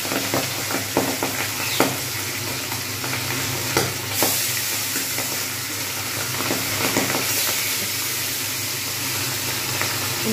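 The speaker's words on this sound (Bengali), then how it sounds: "এবার একটা একটা করে মাছ কিন্তু আমি ছেড়ে দেবো সাবধানে।" Pabda fish sizzling loudly in hot salted oil, a dense, continuous frying hiss with crackles and occasional spattering bursts, steady and close throughout without any voices.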